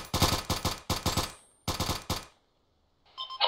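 Gunfire in ARMA 3 opening on three targets: two tight bursts of rapid automatic shots close by, a short pause, another burst, then quiet before a faint sound at the end.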